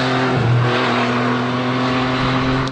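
An MV Agusta Rivale 800cc three-cylinder motorcycle engine revs loudly up close, one sharp throttle blip rising into a sustained high, smooth howl that cuts off at the end.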